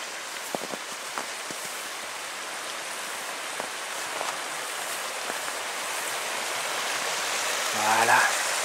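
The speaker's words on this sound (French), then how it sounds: "on va au passage retrouver le ruisseau gelé" A partly frozen mountain stream rushes past frozen rocks with a steady broadband hiss, occasional faint clicks and taps mixed in, and a brief voice near the end.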